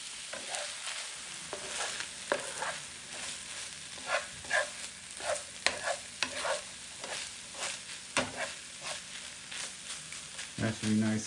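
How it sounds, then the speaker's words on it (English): Chicken sizzles and crackles in a hot pan, with repeated scraping and stirring strokes in an uneven rhythm and a clatter near the end. "The chicken's starting to sizzle."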